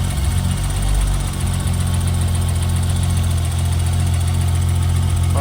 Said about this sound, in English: it's idling perfectly right now